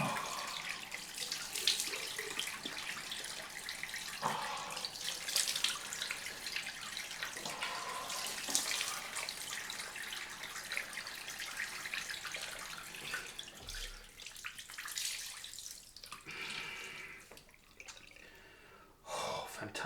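Cold tap water runs steadily into a sink for a post-shave rinse, a continuous broadband splashing with intermittent splashes and sharp breaths or gasps from a man close by.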